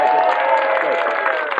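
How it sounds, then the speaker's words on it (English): A studio audience claps and cheers for Bernard on a radio show, a steady dense wash of applause filling the whole moment without a break. "Can we hear a nice round of applause for Bernard?"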